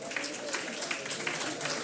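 An audience applauds at an International Women's Day celebration, a steady, fairly distant wash of clapping that holds evenly for the whole stretch.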